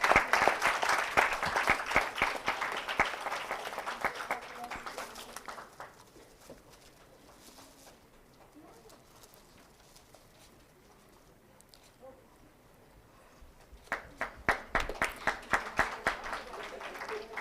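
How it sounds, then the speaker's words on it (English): Applause from a conference and convocation audience honoring Urvashi Chaudhary: loud clapping at first, fading to quiet murmurs, then swelling again near the end. "Can we have a huge round of applause?"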